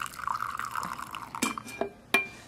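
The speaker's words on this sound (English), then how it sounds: "Let's open it to pour, huh?" Coffee pours from a Technivorm KBT741 carafe into a cup, a gurgling liquid stream followed by a few sharp clinks and taps, fairly close and quiet.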